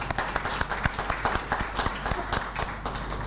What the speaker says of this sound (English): May you please give a round of applause for them.